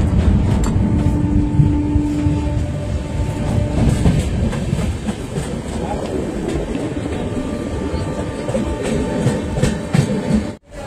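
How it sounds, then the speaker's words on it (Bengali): Darjeeling Mail train pulling into Kishanganj station on a cold day, a steady low rumble of wheels and carriages with faint clatter, continuous and close, fading briefly at the very end. "আমাদের দার্জিলিং মেল এসে পৌঁছলো কিষানগঞ্জ স্টেশনে"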